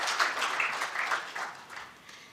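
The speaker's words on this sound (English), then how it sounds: "Let us give a round of applause for Dr. Pauline Paul." Audience applause at an international business management and innovation conference, a soft wash of many hands clapping at a distance that gradually thins and fades.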